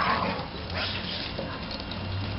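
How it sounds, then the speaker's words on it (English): Dogs fight up close in a scuffle of yips, short whimpers and gruff barks over rough, noisy background sound. "A dog fight."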